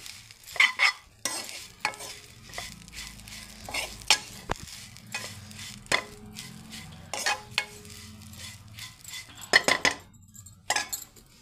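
Leaves fry in oil in a pan with a soft sizzle, broken by frequent sharp scrapes and clinks of a metal spoon stirring against the pan; close and with no talking.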